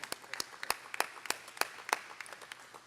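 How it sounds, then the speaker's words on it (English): Scattered clapping from a small audience at a market groundbreaking ceremony in Louisville, a dozen or so distinct, sharp claps spaced irregularly, fairly quiet and thinning out toward the end. "we need to give her a round of applause"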